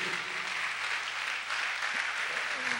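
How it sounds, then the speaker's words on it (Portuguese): Congregation at a church service applauding, a steady faint wash of clapping from many hands that fills the space evenly for several seconds, with some talk mixed underneath. "Você pode aplaudir ao Senhor por isso?"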